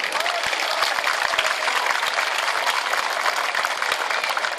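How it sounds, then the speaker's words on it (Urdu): Sustained dense clapping from a crowd at a Pakistan Independence Day celebration in Barcelona, loud and even throughout, with no pause in the applause. "میں یہ چاہتا ہوں کہ آپ کی تالیوں کی آواز جو ہے پاکستان تک پہنچے."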